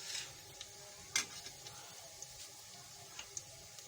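Whole garam masala, cumin and black peppercorns sizzle quietly in hot oil in a pan, a soft steady hiss broken by a sharp clink early on and scattered small pops and ticks, with no voice.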